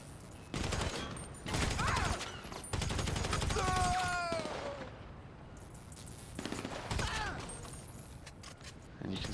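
Incendiary-round gunfire in GTA Online, arriving in repeated bursts of rapid shots with sharp impacts and whooshing tonal effects, mixed with game sound effects; moderately loud and continuous across the stretch.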